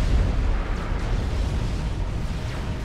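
Generator blowing up in the real-time strategy game Supreme Commander, a dense rumbling blast that fills the short clip with sustained low boom and crackle, loud and without speech.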